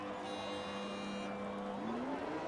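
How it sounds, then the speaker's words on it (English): Race cars in F1 2021 rev at the race start, a sustained high engine whine that holds steady then climbs in pitch as the cars launch, loud and continuous with no voices. "The revs are building, and it's lights out, and away we go."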